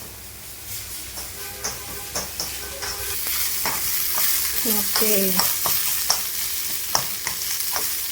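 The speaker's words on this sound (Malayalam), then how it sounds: "നമ്മൾ സവാളയാണ് ഇപ്പോൾ ഇട്ട് കൊടുത്തത്" Sliced onions sizzling in a hot pan for a dried anchovy roast, a steady frying hiss with repeated scraping stirs of a spatula; a brief word is spoken once.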